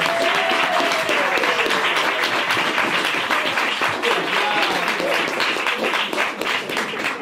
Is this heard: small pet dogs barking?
no